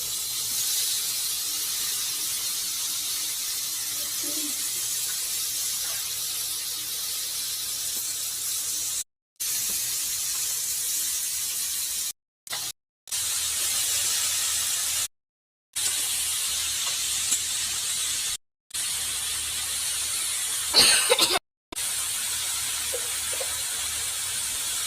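Jujubes frying in a pan with salt, chili powder, fenugreek and nigella seeds give off a steady close hiss that runs throughout, cut by several brief silent gaps, with no talking.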